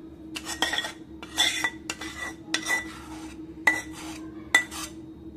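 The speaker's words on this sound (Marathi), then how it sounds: "आणि चांगलं मिक्स करून घ्यायचं आहे." Spoon scraping and clinking against a metal pot while melted jaggery is stirred into a dink ladoo mixture, with repeated irregular strokes, close and moderately loud, over a steady low hum and no talk.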